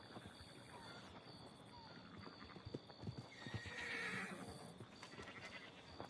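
Horse in Red Dead Redemption 2 clip-clopping along with a clear whinny partway through, set over a steady bed of game ambience with occasional faint clatter.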